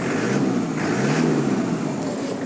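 A 1998 Toyota Hilux Surf SSR-X with a 3-litre turbo diesel engine revs close by, a loud, rough, throbbing drone that swells and eases once.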